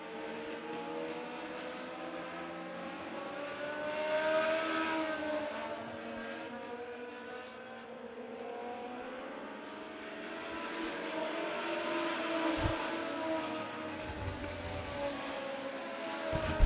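INEX Legends race cars circle Monett Motor Speedway, a steady droning roar of several small engines rising and fading as the pack laps the oval, heard from a distance and never pausing.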